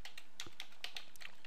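Quick keystrokes on a computer keyboard while entering a command, about a dozen clicks in a steady, close, quiet run.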